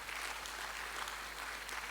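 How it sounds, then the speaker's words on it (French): Audience applause at a government ministry gathering on industry, commerce and small businesses: a faint, continuous wash of many hands clapping in a large room, heard alone without speech. "il faut quand même les applaudir"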